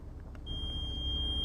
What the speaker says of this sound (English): you'll hear it beeping there